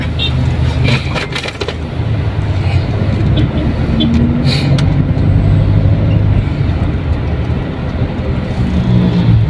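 Vehicles roll along a mud-covered road left behind by flooding from Typhoon Kristine in Lemery, Batangas, a steady loud rumble of traffic and road noise that fills the whole stretch without letup.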